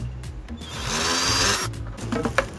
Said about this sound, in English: I'm going to drill through the bucket and the ring.